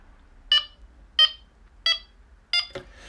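A Delkim Txi-D fishing bite alarm gives four evenly spaced, sharp electronic beeps close by, followed by a brief clunk.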